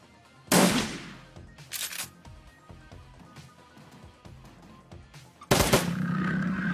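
An auto turret fires in the Shadowrun Returns video game, with loud sharp bursts of gunfire at the start and again near the end and softer shots between them.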